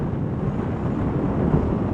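Low, steady wind rumble buffeting the microphone, fairly loud and continuous over a brief stretch, no voices.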